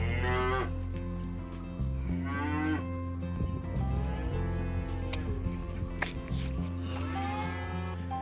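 Cattle on a family cattle farm moo repeatedly and loudly, with several long, drawn-out calls close by that overlap and follow one another with brief pauses between them.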